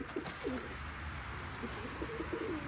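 Pet pigeons coo softly in an enclosed loft, several low throaty calls repeating over a faint steady background hum.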